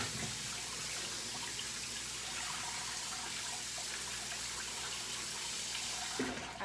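Tap water runs steadily in a kitchen sink, rinsing canned beans for homemade chili; a continuous close splashing hiss lasts throughout and fades off at the very end.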